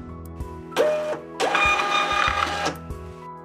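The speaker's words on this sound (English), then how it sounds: "Now we can click Print and verify that the printer is working." A USB Arkscan label printer prints a single label in two bursts of motor whirring and mechanical feed noise, a short one and then a longer one, with clicks between them. The sound is close and clear, with no talking.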